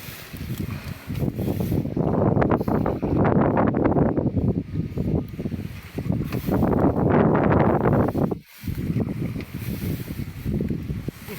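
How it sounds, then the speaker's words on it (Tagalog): Strong wind gusts buffet the microphone outdoors by a water spinach patch during electric fishing for snakehead, roaring in heavy surging waves with a brief lull near the end. "Medyo malakas yung hangin."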